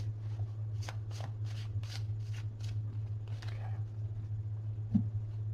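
Tarot cards of the Witch's Tarot deck are riffled and shuffled in a series of quick, crisp bursts close to the listener over a steady low hum, ending with a single soft tap.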